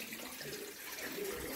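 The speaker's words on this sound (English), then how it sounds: "Here comes the water. It's filling up." Tap water runs steadily into an axolotl tank, a continuous, even rushing and splashing, moderately loud and close, with no clear talk over it.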